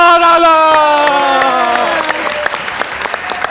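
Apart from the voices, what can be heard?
audience applause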